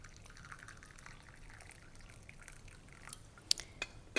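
Steeped tea poured from a teapot, a soft continuous trickle of liquid with a few brighter drips near the end, faint and close.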